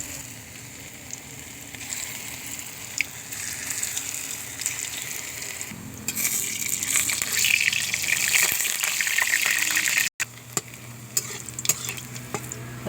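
Masoor dal pakoras dropped in small portions into hot white oil in a kadai, giving a steady bubbling sizzle that swells louder midway, with a brief stir or clatter near the end.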